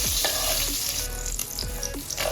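Mustard seeds, cumin and urad dal fry in hot oil with a steady loud sizzle, broken by occasional popping and crackling spits and a few scraping stirs.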